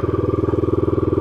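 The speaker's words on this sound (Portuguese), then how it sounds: "E hoje vou fazer de moto." A motorcycle rides along a park route at Parque Campestre Boituva, its engine a loud, close, rapid pulsing putter that stays even throughout.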